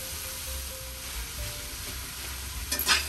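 Potato doughnut ingredients, including boiled potatoes, being stirred and mixed together in a bowl, with a steady soft scraping and churning texture and a brief louder clatter near the end.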